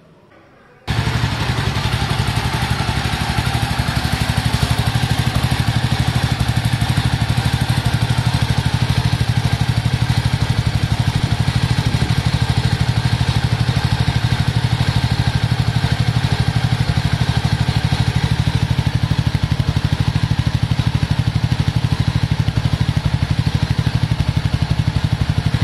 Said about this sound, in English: Let me just turn on the engine.